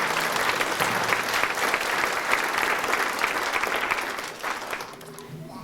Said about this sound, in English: So a big round of applause for Jane for all she does.